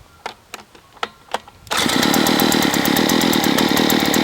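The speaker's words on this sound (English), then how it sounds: "I particularly like this earth auger because it comes with a cool little electric start" An earth auger engine sits quiet behind a few soft clicks and taps, then catches on its electric start and settles into a loud, steady, buzzing run close by.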